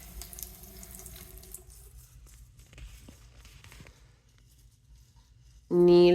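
Tap water runs into a bathroom sink while someone brushes their teeth, a steady splashing hiss with light patter, ending in a sudden loud burst of a different sound in the last half-second.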